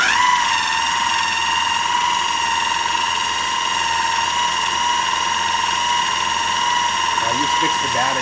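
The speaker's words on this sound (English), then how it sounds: "We're getting ready to process the ingredients to make our cottage cheese pancakes." KitchenAid food processor blending cottage cheese pancake batter, a steady high-pitched motor whine running continuously and close, with no pauses.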